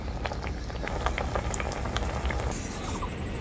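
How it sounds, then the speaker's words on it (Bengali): Jute leaves boil in salted water in an open pot, a steady close bubbling and popping that runs throughout without any talk. "এরপর আমি শাকটা খুব ভালো করে সেদ্ধ করে নেব।"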